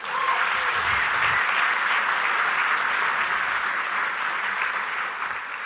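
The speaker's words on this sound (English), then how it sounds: "Can y'all clap for that?" Steady crowd applause at a poverty roundtable hosted by Bernie Sanders in South Carolina, dense and even for the whole stretch, fading slightly near the end.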